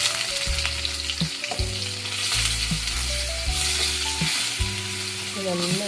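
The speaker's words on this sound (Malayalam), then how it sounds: "ഇനി കുറച്ച് ഇഞ്ചി ചതച്ചത് ഇട്ട് കൊടുക്കാം." Crushed garlic and ginger sizzle steadily in hot oil for a curry lime pickle, a close, continuous hiss under a stepped background melody, with no talking.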